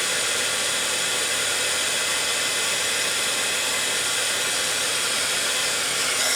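A heat gun blows steadily and loudly while melting embossing powder on a junk journal collage piece, a continuous broadband hiss with no talk over it.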